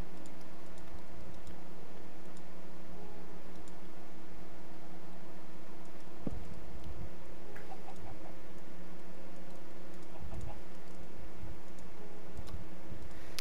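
Rapid, steady ticking in the modded Minecraft game Feed The Beast, faint and clicky, repeating over a soft background hum with a few sharper knocks, and no one talking.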